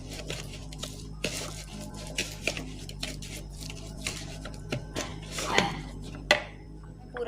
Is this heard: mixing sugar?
yes